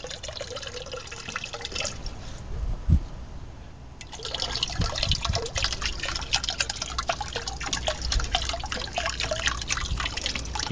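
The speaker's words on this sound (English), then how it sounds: "As you pour in the muriatic acid," Muriatic acid pours into a container for an at-home electrolysis rust removal setup on Harley-Davidson parts, a steady close trickle and splash of liquid running for several seconds after a brief pause.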